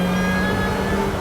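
Rezvani Beast sports car engine holding a steady, loud drone with a strong low hum and tonal whine, continuous and close throughout.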